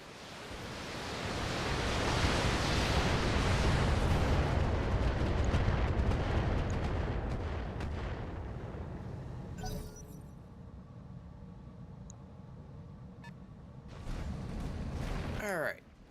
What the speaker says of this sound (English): Yeah, we're just gonna keep firing at that building.